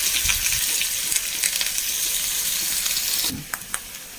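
Vegetables with small onions and curry leaves hiss steadily in a pan, with light stirring taps. Near the end the sizzle suddenly drops quieter and a few sharp clinks follow.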